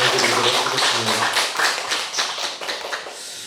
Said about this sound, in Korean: 우리 수고하신 거창교회 식구분 전체를 위해서도 같이 감사의 박수 한번 전해드리도록 하겠습니다